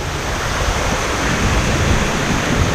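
Loud, continuous roar of water rushing over a weir beside a highway, a dense steady wash of noise with gusty wind buffeting the microphone, no voices.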